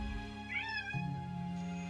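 A pet cat lets out a clear, rising-and-falling meow close by, followed by a lower drawn-out vocal note, heard over quiet background game music.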